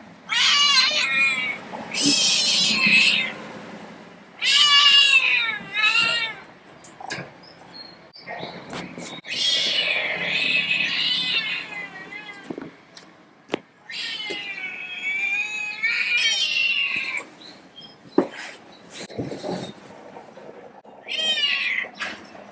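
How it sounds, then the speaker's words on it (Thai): A stray cat yowls and caterwauls repeatedly in long, wavering, mournful cries with short gaps between them, loud and close, with a few clattering knocks in between. "มันเป็นเสียงแมวเสียงแม่"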